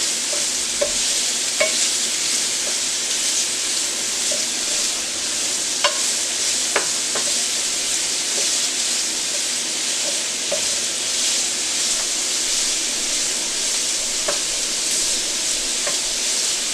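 Shrimp fried rice being stirred in a hot pan: steady frying sizzle and hiss throughout, with scattered scraping clinks of the utensil against the pan at irregular intervals, close and fairly loud, with no talking.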